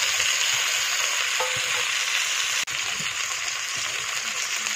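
Onion and tomato fry in a pan with a loud, steady sizzle, a constant hiss that breaks for an instant partway through, with faint stirring scrapes under it.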